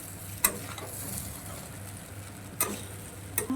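Spices and cumin powder are stirred into oil in a cooking pan, giving a soft continuous sizzle broken by a few sharp clinks of a spoon against the pan.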